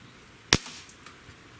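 A single sharp crack from a Dan Wesson 715 6-inch .177 pellet revolver shooting match green pellets, loud and close, its short decay trailing into quiet.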